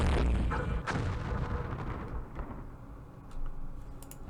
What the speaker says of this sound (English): Shoot, we got hit by frickin' mortars.